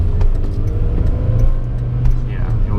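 A VW Bug engine idles steadily as the car creeps forward in first gear with the clutch out, a low continuous rumble close by with no voices.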